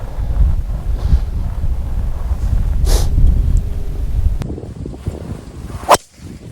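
A golf driver swing from a long-hitting amateur cuts a sharp airy whoosh, heard twice, over steady outdoor wind buffeting the microphone.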